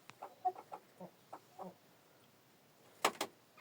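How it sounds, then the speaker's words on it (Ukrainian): A crested, bearded black hen clucks in short, soft bursts, then gives two louder sharp squawks near the end, fairly close in a quiet setting. "Та, що посередині ця чубата, бородата, кучерява курка чорна"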